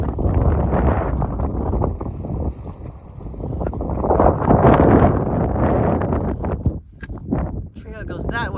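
Strong wind on a hilltop along the Arizona Trail roars and buffets the microphone in heavy, uneven gusts, with a voice faintly audible at moments under the rush.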